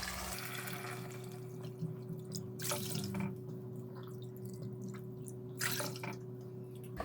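A steady stream of water, three cups, pours into a cooking pot for rava upma, running continuously with soft splashing and a low hum in the background.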